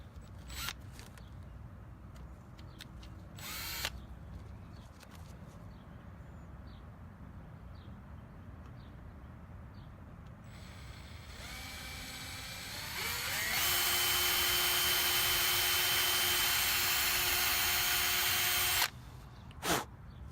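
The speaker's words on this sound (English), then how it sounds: "go ahead and drill a pilot hole exactly where that indentation is" Power drill boring a pilot hole into the front bumper of an S550 Ford Mustang during a quick-latch bumper kit install: short bursts early, then a sustained loud whining drill run near the end, close up with no talk.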